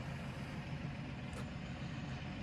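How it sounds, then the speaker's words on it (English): A farm tractor engine idles steadily in the background, a low, continuous diesel rumble that stays faint and even throughout with no changes in pace. "that sound you hear in the background is my tractor running"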